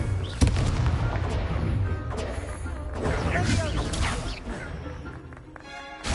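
Confringo fire spell explosion in the Hogwarts Legacy video game, a loud booming blast at a practice duel amid spell effects, crackling impacts and game music, with voices casting spells around it.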